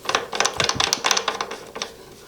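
Crank puller being turned into a square taper bicycle crank arm, a quick run of close, crisp metallic clicks and ratcheting ticks that fade toward the end, with no voice.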